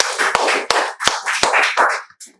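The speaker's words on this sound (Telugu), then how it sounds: "Very good, claps beta." Students in a spoken English class clap together in a brief burst of applause, with a few sharp hand claps standing out, close and fairly loud, ending abruptly with no talking.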